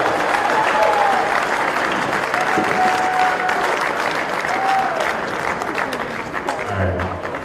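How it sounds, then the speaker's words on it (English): An audience at a motorcycle rally awards ceremony gives sustained applause, loud even clapping with a few cheers mixed in and no talk over it. "Again, another round of applause."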